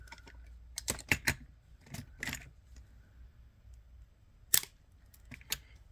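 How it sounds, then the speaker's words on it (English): Wire cutters snip the heads off two old head pins at a jewelry bench, giving a few sharp close clicks spaced over several seconds against a quiet background with no talking. "we're going to cut the heads off of these two older head pins"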